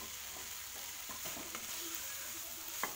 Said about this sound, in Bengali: এবার এইটাকে আমি বেশ কিছুক্ষণ ধরে একদম লো স্টিমে কষাবো